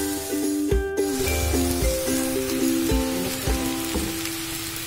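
Sliced onions with salt sautéing in a pan for a Kerala egg curry, a continuous soft crackling sizzle running throughout beneath steady background music.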